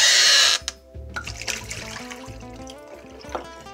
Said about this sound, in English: by rinsing the bottle